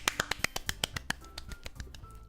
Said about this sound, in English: Sayori finishes and we applaud.